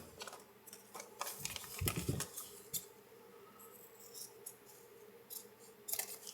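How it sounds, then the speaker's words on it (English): Scissors snipping shock parts for an SCX24 RC crawler in a quiet room, a scattering of sharp irregular clicks with a louder crunching cut near the middle. "these are the best scissors ever made"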